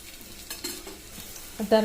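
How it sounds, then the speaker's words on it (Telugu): A ragi millet flour sweet paratha fries in oil on a griddle with a soft continuous sizzle, broken by a few light scraping touches and a brief clink at the end. "పెనం పైన వేసి పెట్టుకున్న తర్వాత మనం రెండు వైపులా నెయ్యి కానీ ఆయిల్ కానీ వేసి కాల్చుకోవాలి"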